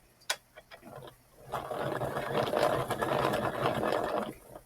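A hand yarn winder is cranked, giving a steady mechanical whir with faint ratcheting clicks that builds after a few isolated taps and runs continuously at close range.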